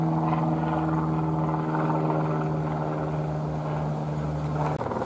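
A small propeller plane passes directly overhead and banks into a turn, its steady droning engine hum loud and continuous throughout with no talking.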